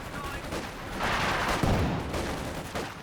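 Grenade blast and gunfire from a Company of Heroes 2 1v1 match, a dense rattle of shots with a heavier low thump midway, mixed under faint talk.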